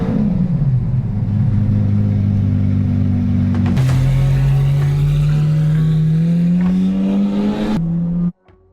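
A Lamborghini SVJ, a crashed car being driven on a race track, sends out a loud, steady engine roar. The pitch holds, shifts once as the gear changes, then climbs again as it accelerates close by, until the sound cuts off abruptly.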